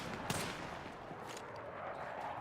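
Sniper gunfire in the Battlefield 6 video game: one sharp crack stands out early, then a dense, steady wash of distant battle noise continues underneath.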